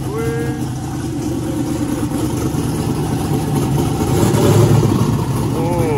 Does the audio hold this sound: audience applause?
no